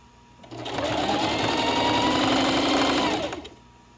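A sewing machine stitches a Dollar Tree pillow sham, running in one steady, close, continuous whir for about three seconds before stopping.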